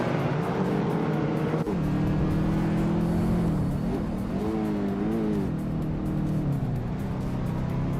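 Race car engines roar steadily in a racing video game featuring a 2014 Subaru Impreza WRX STI, the pitch climbing and dipping with gear changes over constant engine and road noise.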